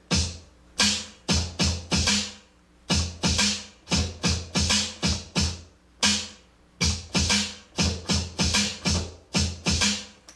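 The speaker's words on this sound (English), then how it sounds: "make turntable drumming sound like this" Rhythmic bursts of scratched vinyl and chopped drum hits repeat in a steady, slow pattern, loud and close with no talking.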